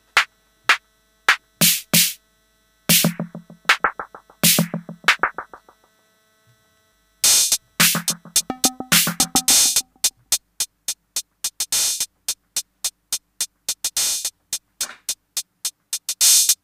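FM synth snare drum run dry through an analog mixer with a little low cut and no echo: a sequence of sharp, close hits, first sparse, then in quick rolls, later a steady rapid pattern, with no voice.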